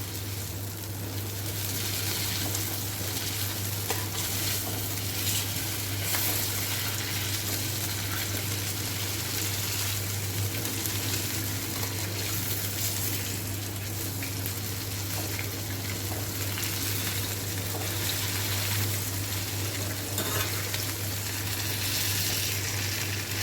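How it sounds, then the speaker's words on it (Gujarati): Chhole tikki patties fry in a pan, a loud, even sizzle that holds steady and uninterrupted the whole time, with no talking. "તો થોડીક વાર બીજી વાર શેકાવા દઈશું તો એકદમ ક્રિસ્પી થઈ જશે"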